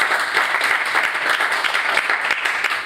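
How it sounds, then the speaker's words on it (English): Audience applause for Rashid at a TNB XPO 2025 panel event: a steady, dense wash of many hands clapping at even loudness throughout, with no speech over it. "So please give Rashid a round of applause."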